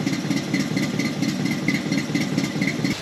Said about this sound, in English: The dual chambered mufflers with the whole Delta Flow thing sounds awesome.